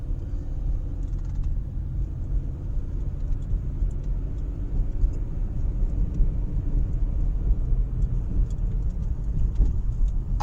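Car driving along a road in Center Township, heard from inside as a steady low engine and road rumble throughout, with no talk.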